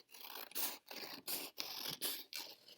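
Scissors snip through a paper painting in five or six crisp, regular cuts, each a short scraping crunch separated by brief pauses, close and fairly quiet.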